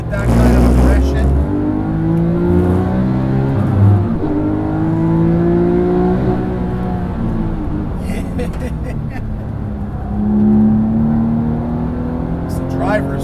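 A Porsche 997 GT3 RS 4.0 is driven hard uphill in second gear, its engine note rising loud and close in long rev sweeps with brief dips at gear or throttle changes, while a voice talks over it.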